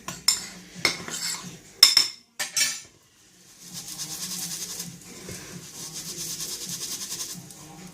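Bath bomb embed mixture stirred and rubbed together by hand, with scattered clinks and scraping at first, then a steady close gritty rubbing that continues to the end.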